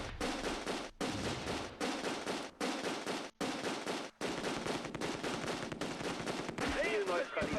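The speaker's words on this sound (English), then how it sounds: "Alright, put some shots on the 30 cal." Machine gun fire from a Close Combat II World War II battle, dense bursts of rattling gunfire separated by short gaps, loud and close, with a faint whistling sound near the end.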